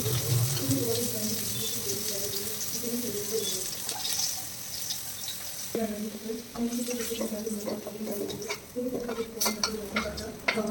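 Potato pieces fry in a pan for a home breakfast, a steady moderate sizzle running throughout with occasional scraping stirs, while a voice talks over it at times.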